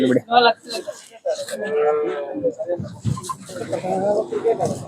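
A cow moos a couple of times nearby while several people talk over it at a busy outdoor cattle market in Chintamani.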